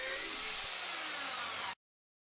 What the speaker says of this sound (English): Here we see the drilling template clamped and ready to drill with a 5mm drill